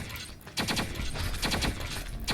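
Rapid bursts of in-game gunfire from the mobile shooter T3 Arena, several quick volleys fired in succession and loud against a busy game soundtrack, with no talk.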